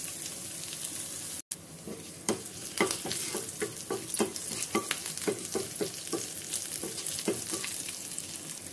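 Crushed garlic, ginger and green chillies frying in hot oil, a steady close sizzle broken by a brief gap, then repeated scraping and stirring clicks of a spoon against the pan.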